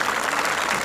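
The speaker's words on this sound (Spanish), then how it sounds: "Gracias por sus aplausos, señores." Brief, steady applause from a street audience watching comedians, a dense patter of clapping hands at even loudness throughout.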